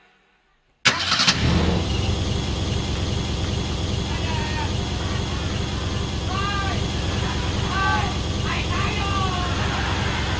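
A car engine cranks and catches after a brief silence, then settles into a steady idle, with voices talking faintly over it.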